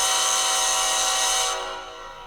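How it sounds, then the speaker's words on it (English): A Union Pacific locomotive horn sounds from an ESU model-train sound decoder, one sustained bright multi-tone blast held steady before fading off, close and clear. "There's the horn."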